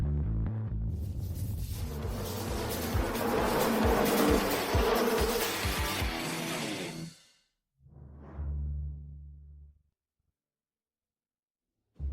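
A loud, dense mosquito swarm buzz swells and drones for several seconds, then cuts off, followed by a shorter buzzing burst that fades to silence.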